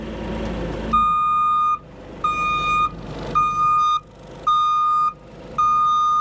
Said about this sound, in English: can I make that reversing alarm quieter?